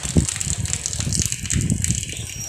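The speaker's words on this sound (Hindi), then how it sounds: "हाँ अभी बरस रहा है पानी।" Heavy rain pouring down over a flooded field with a swollen river and stream nearby, a steady broadband wash of water that holds loud throughout with slight surges and no talk.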